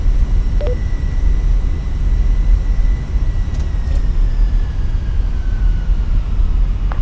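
Airbus A320 jet engines spooling up for takeoff from Bologna in Flight Simulator 2024, a steady loud broadband roar with a faint rising whine running through the whole stretch, with no talk over it.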